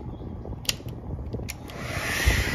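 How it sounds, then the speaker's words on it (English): A hair dryer blows warm air toward an air conditioner's thermostat to trick it into switching on, a steady broadband whoosh close by that builds slightly louder toward the end. "have a hairdryer here just so we can trick the temperature"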